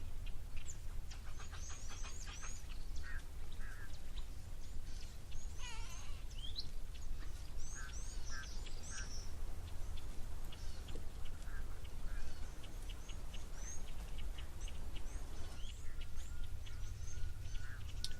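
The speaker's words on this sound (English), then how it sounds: "These Egyptian geese and the red-billed teals, they don't migrate." Egyptian geese and red-billed teals calling at an African waterhole, with repeated honking and quacking calls in bursts over a steady low background rumble, moderately near.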